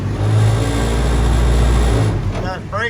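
A restored Willys CJ2A Jeep engine revs loud and close in one sustained, even roar for about two seconds, then drops away as a voice begins speaking.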